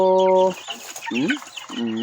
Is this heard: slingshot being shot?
no